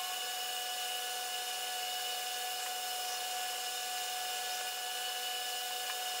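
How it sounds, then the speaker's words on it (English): An HVLP paint spray gun spraying primer onto a brick wall, a steady high hissing whine that holds constant and fairly loud throughout, with no speech. "I'm going to try out my HVLP gun"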